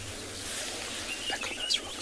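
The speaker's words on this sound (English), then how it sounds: "Beautiful bird that you can hear calling is a chestnut vented tit babbler" A chestnut-vented tit-babbler calls at a water's edge in the early morning: brief, faint, high chirps near the end of a short stretch of quiet outdoor ambience, somewhat distant.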